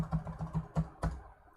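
Fingers type on a computer keyboard with a quick irregular run of close keystrokes, some heavier presses standing out, and no voices.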